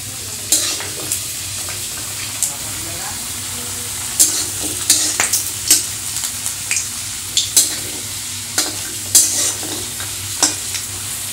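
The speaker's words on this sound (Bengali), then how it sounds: "এবার আলু আর গাটি কচুগুলোও কিন্তু লাল লাল করে ভেজে নেব।" Potatoes and taro pieces fried and stirred in a pan until reddish, a low steady sizzle punctuated by frequent, irregular spatula scrapes and clacks close by.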